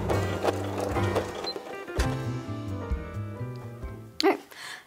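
Sewing machine stitching closed the gap in a quilted casserole dish carrier, running in short mechanical whirring bursts with clicks and pauses between them, while someone talks over it.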